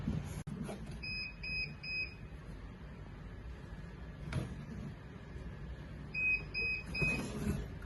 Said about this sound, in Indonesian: setelah sensor infrared mendeteksi gerakan dan buzzernya berbunyi